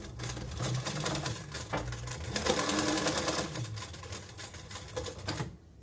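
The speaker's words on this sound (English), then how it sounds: "I do a little back and forth bar stitch." A sewing machine runs a short back-and-forth bar stitch on a strap near a buckle, a fast rattling whir that pauses and restarts in quick bursts, close and alone.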